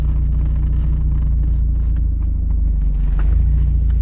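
Low, steady engine rumble from a 30-year-old 1990s Mazda Miata with a manual gearbox as it backs up in reverse, a close, continuous idle-level drone with no talking.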